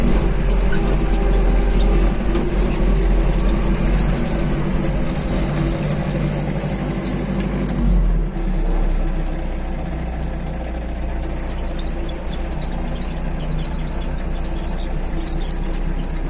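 A small Japanese Iseki 48 tractor runs at night pulling a heavy 2.7 m cultivator, its engine a loud, steady low drone that shifts tone slightly partway through, with no talking.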